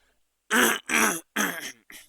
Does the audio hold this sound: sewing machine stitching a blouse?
no